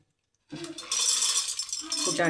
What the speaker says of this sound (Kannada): ಶೇಂಗಾ ಹಾಕ್ತಾಯಿದ್ದೀನಿ. ಶೇಂಗಾ, ಗೋಲ್ನಟ್, ಶೇಂಗಾ